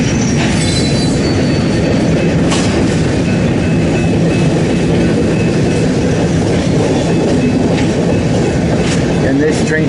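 A northbound freight train passes close by in Lyons, Nebraska, a loud unbroken roar of wagons rolling over the rails, with clickety-clack and short wheel squeals breaking through, and some talk over it.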